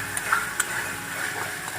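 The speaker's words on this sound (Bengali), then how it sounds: "এরপর সোয়া সস দিয়ে দিচ্ছি 1 চামচ। এরপর ভালো করে আমি এটাকে মিক্স করে নিচ্ছি।" Chilli chicken sauce with a spoon of soy sauce sizzles in a pan as it is stirred, with soft sizzling throughout and a couple of light clinks of the spoon against the pan.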